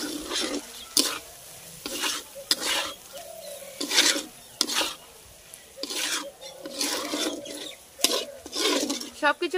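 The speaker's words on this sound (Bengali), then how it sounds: "এবার সবকিছু কিন্তু ভালো করে মিশিয়ে নেব।" Duck meat being stirred with chili powder, salt and spices in a pan for a Bengali duck curry: repeated close scraping and rubbing strokes at an uneven rhythm, with a soft sizzle underneath.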